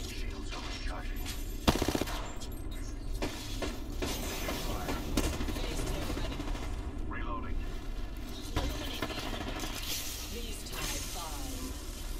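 Video game gunfire crackles in sharp shots and short bursts over steady background battle noise, with a voice talking over parts of it.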